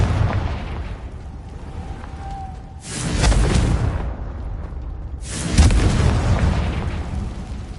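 Confringo spell explosions in Hogwarts Legacy, two loud bursting blasts a few seconds apart, each followed by a rumbling tail, with a faint tone between them.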